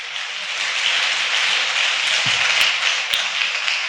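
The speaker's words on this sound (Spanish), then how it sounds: "Dando fuerte aplauso al Rey de Gloria" A church congregation claps loudly and continuously, a dense, even wash of applause that holds for several seconds with no voices over it.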